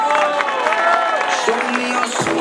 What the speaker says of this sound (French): On applaudit bien fort Clément Venturini.